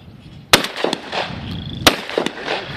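Two sharp, loud shotgun blasts at clay pigeons ring out about a second apart at a South Dakota Pheasant Fest event, each with a short echoing tail, over faint outdoor background.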